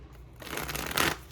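Tarot cards are shuffled in a brief, soft riffle that builds to a quick flurry, close and quiet.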